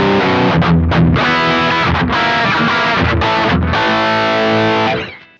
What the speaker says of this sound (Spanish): Vamos a escuchar primero el canal distorsionado sin el efecto, obviamente.